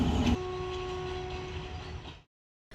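A train runs along a reopened railway line after flooding near Trincomalee, giving a steady rumble with a sustained horn-like tone before dropping to silence.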